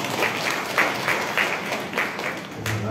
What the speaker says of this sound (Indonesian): kita kasih tepuk tangan dulu ke dia